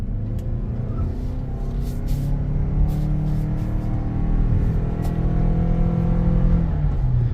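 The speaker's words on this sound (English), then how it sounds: "if I go ahead and flip this dial into sport mode, it's going to basically give us all power from both systems" A Toyota RAV4 Hybrid accelerating in sport mode, a steady low engine and motor drone that swells and rises in pitch, heard from inside the cabin with faint clicks.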